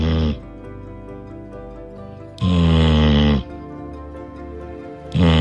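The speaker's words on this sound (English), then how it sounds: "He's snoring like a human." A kitten snores loudly in a deep, human-like way, two long rasping snore breaths with quieter breathing between them, heard alone and close.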